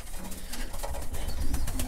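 Pigeons coo softly in a loft full of young birds in extreme cold, low murmuring calls under a dense steady background hiss, with no voices.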